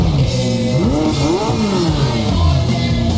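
A McLaren 600LT sports car engine revs hard, its pitch sweeping up and back down in a loud, continuous snarl that holds steady throughout.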